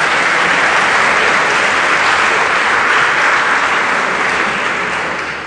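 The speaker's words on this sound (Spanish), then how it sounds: "Recuerdo que los aplausos se reservan al final" A large audience at a university academic debate between Guadalajara candidates breaks into loud, sustained applause that fades slightly at the end.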